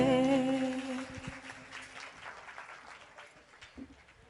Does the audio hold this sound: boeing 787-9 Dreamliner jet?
no